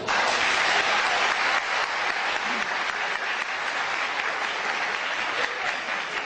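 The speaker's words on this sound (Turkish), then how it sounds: "alkışlıyoruz" A wedding crowd applauds steadily for several seconds, dense clapping filling the space without pause, loud and close.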